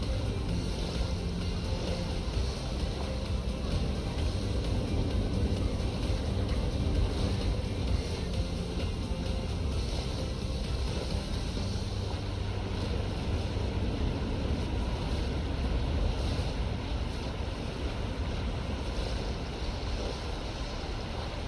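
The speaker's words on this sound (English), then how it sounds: "So difficult to keep the kayak moving nicely over the water." A kayak glides over water in the London 2012 Olympics video game, with a steady, dense rush of water and wind noise that continues unbroken from start to end, with no talking.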